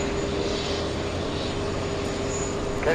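A JetBlue airliner in Peacock livery at JFK airport gives off a steady, continuous jet engine drone, heard at a distance with no talking.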